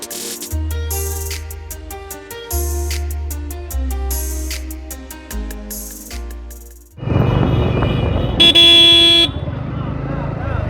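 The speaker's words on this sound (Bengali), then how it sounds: "সারা বছরের মতো হাওড়া স্টেশনে সবসময় জ্যাম।" Traffic jam outside Howrah station in the evening, with repeated car and bike horns tooting in long tones close by over heavy engine and road rumble, then a louder blaring blast near the end.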